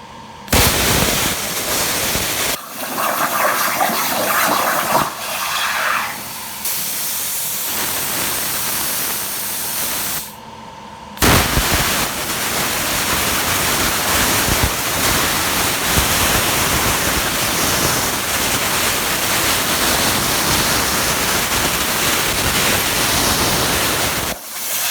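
A Torchmate 4400 plasma table cuts out a logo with a loud, harsh, hissing roar. The sound starts and stops in a few segments, breaking briefly near eleven seconds and then running long and steady.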